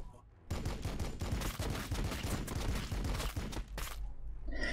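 Sustained burst of rapid gunfire from an attack in Warhammer 40,000: Battlesector, loud and dense with overlapping shots for several seconds after a brief quiet start.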